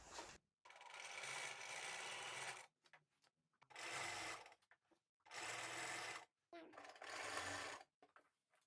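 A sewing machine stitches the armhole seam of a basic short-sleeve jersey T-shirt in three steady whirring bursts with short pauses between, close and fairly quiet.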